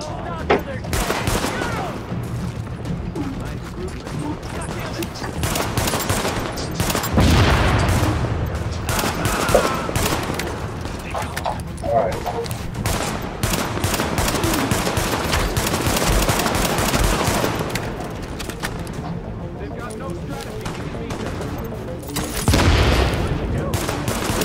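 Handgun fire in Tom Clancy's The Division, a rapid stream of sharp shots and bursts, loud and dense, with a voice speaking over the gunfire at times.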